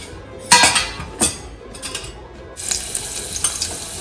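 Cumin and garlic tempering in hot oil for aloo fatfat, with sharp sizzling bursts as they hit the oil, then a steadier frying hiss with light stirring and pan clinks.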